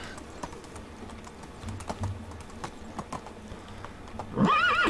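Horse hooves clip-clop in the medieval village life-simulation game Medieval Dynasty, a steady trot of soft thuds with scattered clicks, ending with a loud horse neigh over a busy game ambience; no one speaks.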